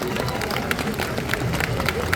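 Fans at a Paris fan festival panel with actress Erica Durance applaud loudly. The hall is filled with a thick, continuous wash of clapping and crowd noise from start to finish.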